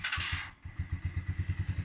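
Keeway CR152 motorcycle fitted with its stock exhaust, starting up: a brief hissing crank, then the engine catches and settles into a fast, even, thumping idle, close by and moderately loud.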